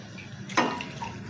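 Water is poured over chopped plantain stem pieces in a cooking pan, giving a single short splash and trickle that stands out briefly against a quiet kitchen background.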